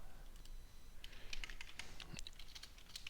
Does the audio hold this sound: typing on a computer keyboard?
yes